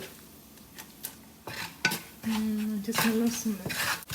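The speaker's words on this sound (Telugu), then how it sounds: "ఇప్పుడు ఈ పొడి వేస్తున్నాను" Puliogare spice powder is stirred into a hot sesame-oil tempering in a pan, with scraping metal-on-pan strokes, a few clinks, and a soft sizzle rising in the second half.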